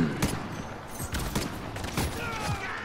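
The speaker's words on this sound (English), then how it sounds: "he didn't expect that double barrel shotgun" Double-barrel shotgun fire in the video game Modern Warfare: several sharp, booming blasts at roughly half-second to one-second spacing, loud and close, with mechanical clatter between shots and no talking.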